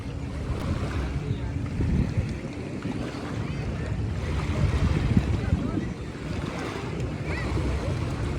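Waves wash up on a beach shore under steady wind gusts buffeting the microphone, a moderately loud continuous rush with no clear break.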